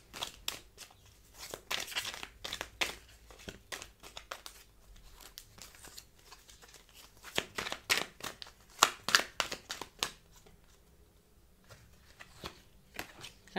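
Tarot cards shuffled and drawn by hand, close-up bursts of crisp riffling and flicking that come and go in irregular bunches, mostly without talk.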